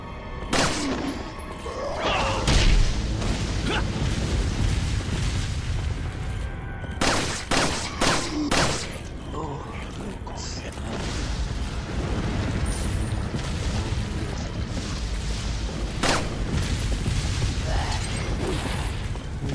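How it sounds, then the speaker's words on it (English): Riot gun blasts in Resident Evil 4, a shotgun-style weapon firing several loud, booming shots spaced a second or two apart over a constant rumble of game noise, with a tight burst of shots in the middle. "That new riot gun upgrade is powerful, man."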